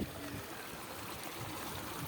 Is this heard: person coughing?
no